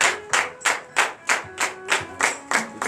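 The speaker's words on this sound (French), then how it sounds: "veuillez vous lever sur vos pieds et donner de vives acclamations à l'Éternel" A church congregation at a morning prayer service in Benin claps in unison, sharp rhythmic claps at roughly three per second, close and steady, with no other sound evident.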